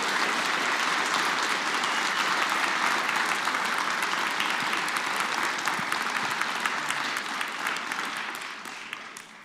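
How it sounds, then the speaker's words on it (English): Sustained applause from a large audience at a conference closing ceremony, dense and even for several seconds, then gradually thinning out toward the end. "I think she really deserves a round of applause."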